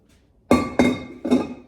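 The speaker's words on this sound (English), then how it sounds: "You'll see when I start pushing these glass weights in here," Glass fermentation weights pressed down into a big glass container of sauerkraut, giving three close, sharp clinks about half a second apart, each ringing briefly before fading.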